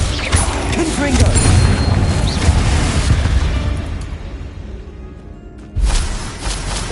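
Confringo, an explosive spell cast in Hogwarts Legacy, bursts loudly with a sudden blast late on, over continuous rumbling game noise with a voice faintly present.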